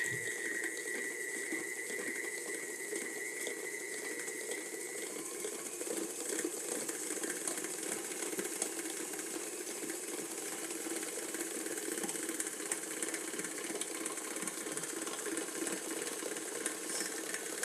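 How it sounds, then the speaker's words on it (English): An electric mixer running on high while beating batter for a Biscoff cookie cream cheese pound cake, a steady close whirring drone with a faint rhythmic rattle, continuous and unchanging. "we're going to let this mix together for about 5 minutes"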